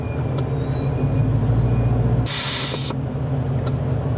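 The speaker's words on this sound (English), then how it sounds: "so I can hear the air tank in the rear" Air suspension tank hissing at the rear of a custom carbon widebody Corvette, a steady hiss over a low rumbling background, then a sudden loud burst of air lasting under a second, with no talking.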